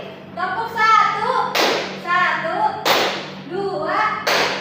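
A high school class claps in time, three crisp group claps spaced roughly 1.3 seconds apart, with students chanting numbers together between the claps.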